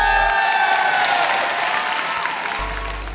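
Audience applause in a Christ College hall for a TV game-show episode, a dense, steady wash of many hands clapping that fades slightly toward the end.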